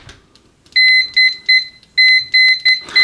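Continuity beeper of an Etekcity MSR-A1000 multimeter on its stock test probes: a series of loud, clear, near electronic beeps, seven short tones of uneven length in a quick irregular rhythm with a short break between groups.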